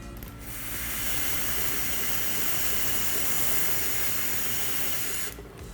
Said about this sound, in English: we use some carb cleaner and a valve stem, and we're going to use this 9-volt battery to actuate the injector